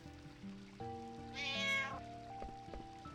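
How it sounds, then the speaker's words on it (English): Cat meow in Final Fantasy IX rising over soft game music, one short high cry in the middle of the clip, moderately loud and close. "that's a cat?"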